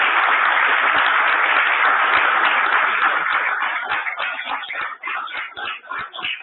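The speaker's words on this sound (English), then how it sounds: "Let's give them a round of applause." An audience applauds at an award ceremony, dense loud clapping that thins out into scattered individual claps and fades toward the end.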